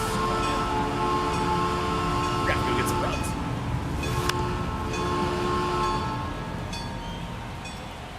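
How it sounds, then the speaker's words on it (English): A loud train passing nearby, a continuous rumbling roar with tonal squeals that holds steady and slowly eases off, with people talking over it. "That train's fucking loud."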